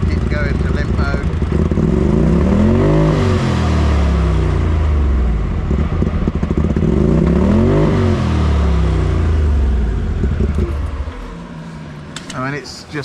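A UTV engine with a faulty fuel pump revs unevenly and close by, rising and falling through two long surges, sputtering as if misfiring and stuck in limp mode, then dropping away near the end; voices speak over it.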